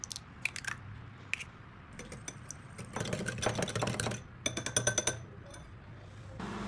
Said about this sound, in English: crack 1 egg into it and beat well with a whisk.